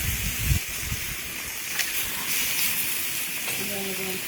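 Flank steak sizzles on a hot Ovana sizzle tray, a soft, steady hiss and crackle heard close up at low volume, with a brief heavier clatter at the start.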